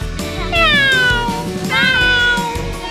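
A person's voice imitates a cat's meow, giving two drawn-out, loud, nasal meows that rise and then fall, heard close up with faint chatter and background noise between them.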